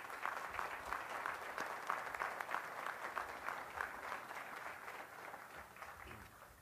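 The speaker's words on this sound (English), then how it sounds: "Please kindly join me in a round of applause for my beautiful bride" Audience applause for a commander's wife at a military change of responsibility ceremony in Korea, a dense and even crowd clapping that is sustained throughout and tapers slightly at the end.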